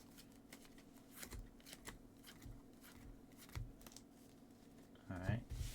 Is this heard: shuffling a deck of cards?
yes